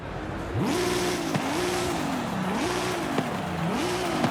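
A 2JZ-swapped NASCAR build in Forza Horizon 5 revs repeatedly, the engine note climbing and dropping in about four rhythmic blips over a constant loud roar, close and without speech.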